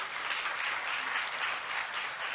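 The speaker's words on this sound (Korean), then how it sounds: "박수" Steady applause from a crowd, dense and continuous clapping filling the whole stretch at an even, moderate level.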